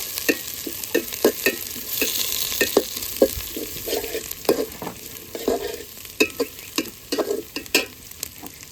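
Onions fry in oil with bay leaf, cinnamon, cardamom, black pepper and cloves, a bright steady sizzle punctuated by frequent rhythmic spatula scrapes and clacks against the pan, close up and without speech.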